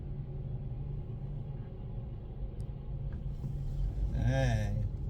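A truck works nearby in a cleaning job, its engine giving a steady low rumble that swells toward the end as the motor revs with a rising whine.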